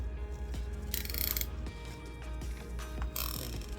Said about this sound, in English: bring the zip tie to the back, and before I crank it all the way down